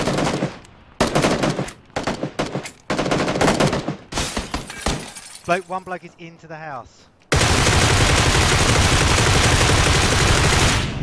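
Repeated bursts of Groza assault rifle fire in PUBG, loud, close, rapid automatic volleys broken by short pauses. Someone speaks briefly partway through, and a dense, sustained roar of noise fills the final few seconds.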